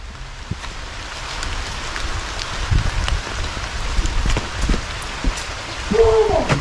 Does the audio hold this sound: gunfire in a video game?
no